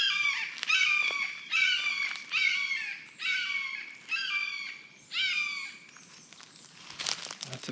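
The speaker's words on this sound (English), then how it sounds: "Lots of birds out here calling out to each other." Birds call back and forth in a wilderness of pine, oak and cypress trees, with repeated harsh, chattering bursts that come in rhythmic waves from fairly close. A brief rustle sounds near the end.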